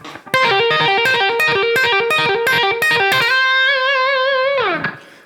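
Fast electric guitar lick with distortion, a quick burst of about eight picked notes ending on a long vibrato-laden held note that dips away at the end, loud and up close.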